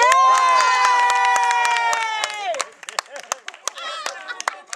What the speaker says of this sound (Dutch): dan een applaus.